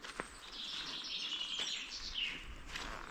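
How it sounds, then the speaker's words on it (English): Birds sing and chirp repeatedly near a stream on a countryside walk in Northumberland, with clear high calls over soft outdoor background noise. "I can hear lots of birds."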